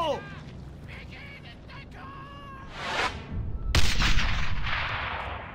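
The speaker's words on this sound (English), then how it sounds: "this gives me a perfect opportunity for another grenade throw" A grenade blast in the World War II shooter Brothers in Arms: Hell's Highway, a sudden heavy boom rolling into rumble after brief whooshing and shouted voices.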